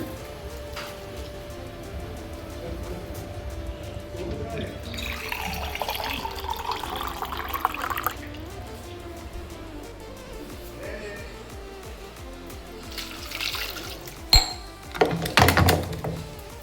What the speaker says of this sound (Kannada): 1-2 ಗ್ಲಾಸ್ ನೀರು ಹಾಕ್ತೀನಿ ಇದಕ್ಕೆ.